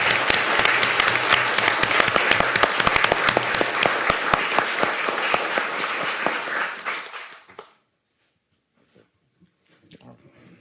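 A large audience claps loudly and steadily for several seconds, then the applause fades out quickly into near silence.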